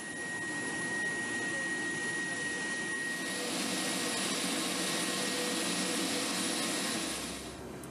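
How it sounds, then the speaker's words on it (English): Steady, loud roar of a Lockheed P-3 Orion, a four-engine turboprop aircraft, heard up close as a continuous broadband drone with a sustained whine that holds level throughout. "The Lockheed P-3 Orion is a 4-engine turboprop aircraft"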